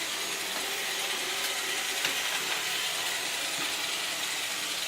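Roomba robot vacuum working across a laundry room floor, giving a steady, close whirring and brushing hiss with faint rattling clicks throughout and no talk.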